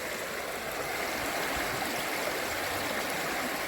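Water pours and splashes in a steady, loud, continuous rush while freshly caught crabs are washed outdoors, with no voices over it.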